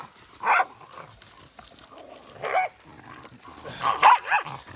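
Several small dogs bark in short bursts, one near 0.5 s, another around 2.5 s and a clustered flurry near 4 s, fairly close and loud with no talk over them.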